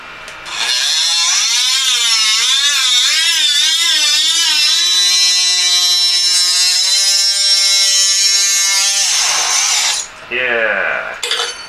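A small brittle grinding disc on a rotary tool cuts through brass sheet for a handmade cigarette case, giving a loud, steady high whine that rises and falls in pitch for about nine seconds before stopping, then a short second burst.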